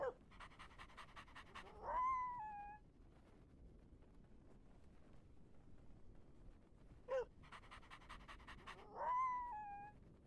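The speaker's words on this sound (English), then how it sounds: "And last one is howl." A video game dog pet performs its howl emote twice, each a rising panting-and-yip burst that ends in a clear wavering howl, close and distinct over a quiet background.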